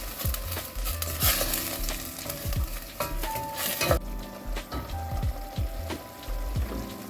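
Meat fries in a pot for a Kazakh rice soup, giving a close, steady crackle and sizzle broken by scraping stir strokes and occasional clinks against the pot.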